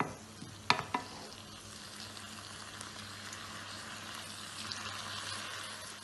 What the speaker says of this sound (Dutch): Zet de kip nog eventjes op middelhoog vuur, zodat het eventjes nog aan kan bakken.